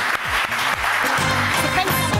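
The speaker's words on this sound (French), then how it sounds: "Donc on va applaudir Lily" A talent-show audience applauds contestant Lily, dense clapping with musical jingle tones sounding over it, loud and close for a couple of seconds.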